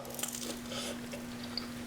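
Teeth bite into a crunchy air-fried egg roll dipped in sauce, giving quiet, close crunches and soft chewing over a low steady hum, with no talking.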